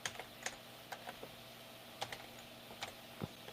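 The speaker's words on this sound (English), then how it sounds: "Getting ahead of myself typing here." Typing on a computer keyboard: scattered, quiet keystrokes tap out in short irregular bursts with pauses between them, over a faint steady hum.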